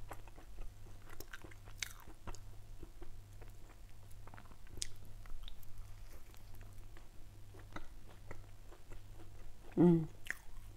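Imitation crab sticks are chewed close to the microphone, with soft, irregular squishy bites and crunches that continue through the stretch and end in a brief louder mouth sound.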